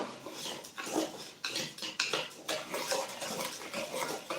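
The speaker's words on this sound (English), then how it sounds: "Now let me add the polymer, so-called polymer, in the sandy soil. Okay. Let's stir it evenly." Polymer hydrogel being stirred into sandy soil in a container, with gritty, scraping, crunchy strokes that repeat in an uneven rhythm, close and fairly loud, with no talking.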